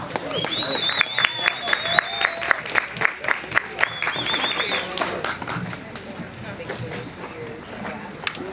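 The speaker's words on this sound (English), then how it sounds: "they're gonna get a big round of applause" A live audience claps for a comedy troupe in bursts of applause. Scattered voices and laughter from the crowd run through it before it fades out.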